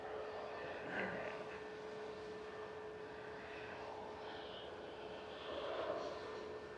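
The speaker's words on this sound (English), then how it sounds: "So Sunsea is going to spool up right next to us." Sunsea airliner jet engines spool up on the runway at Manchester Airport, a steady, fairly faint, distant roar that swells slightly toward the end, with no voices.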